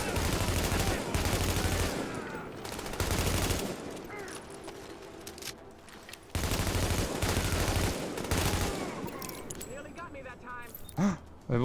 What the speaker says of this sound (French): les coups de feu c'est chiant